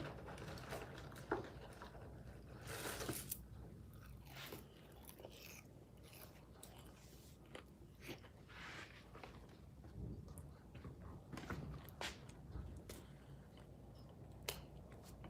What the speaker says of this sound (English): I don't like to talk when I'm chewing.